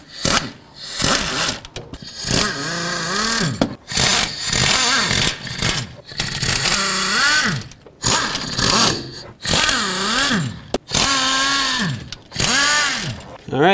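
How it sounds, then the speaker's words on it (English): 3/8-inch impact wrench driving out loose head bolts on a 5.4L 2-valve 1997-2003 Ford F-150 engine, loud repeated bursts of rattling hammering, each a second or two long with brief gaps between. "I'm just gonna use my 3/8 impact"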